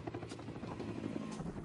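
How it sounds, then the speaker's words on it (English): A helicopter races very low over flat ground, its rotor and engine making a steady, loud, close throbbing drone that fills the whole moment with no pause. "The helicopter raced 20 yards off the ground to avoid enemy radar."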